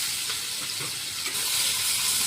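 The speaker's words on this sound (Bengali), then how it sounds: "রসুনটা একটু ভাজা ভাজা হবে" Garlic paste frying in a little oil in a home kitchen pan, a steady, fairly quiet sizzle and hiss running throughout the short stretch with no talking.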